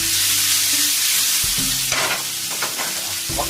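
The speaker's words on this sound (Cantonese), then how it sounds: "燒紅隻鑊爆啲冬菇先" Soaked shiitake mushrooms hit a red-hot wok with a little oil, sizzling loudly and steadily while a utensil stirs and scrapes them in short rhythmic strokes.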